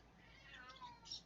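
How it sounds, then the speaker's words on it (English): A house cat meows from outside a closed door, a couple of drawn-out, faint cries close together. "My cat is outside my door arguing with me."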